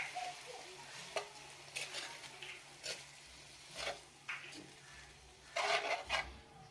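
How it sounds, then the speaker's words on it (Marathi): Poha and green peas being stirred in oil in a pan, with soft scraping strokes and light sizzling recurring in irregular bursts, close and fairly quiet. "पोहे घालूयात, मिक्स करून घ्यायचं आहे।"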